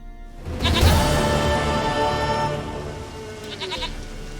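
A goat in the video game The Witcher 3 lets out a loud, wavering bleat up close, followed by a second shorter bleat near the end.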